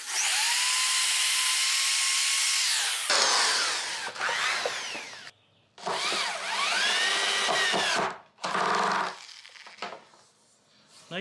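A power drill bores through wooden sandbox boards in loud, steady whining runs, with several bursts and short pauses between them and no talking.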